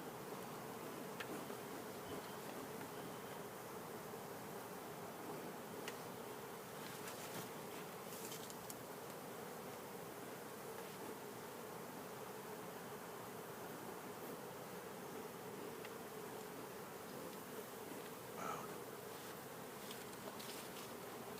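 Honey bees buzz steadily around an open beehive with white-capped brood comb, a dense continuous drone that stays even throughout with no voices.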